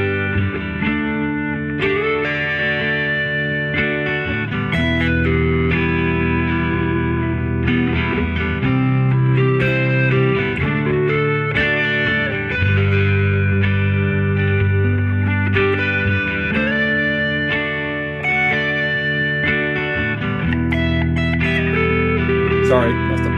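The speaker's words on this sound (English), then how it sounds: "I'm going to play the backing track right here, and I'm going to turn on a little distortion" An electric guitar with distortion plays arpeggios in shifting orders over a full backing track, ringing notes overlapping steadily and loud, close and continuous throughout.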